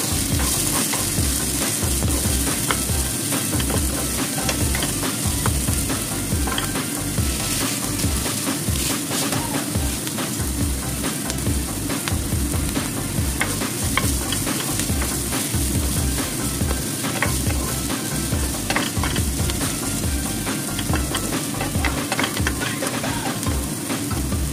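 Garlic and onion sizzle steadily in a hot pan for pork giniling, with a continuous frying hiss and repeated scraping strokes of a spoon stirring through, close and loud with no talking.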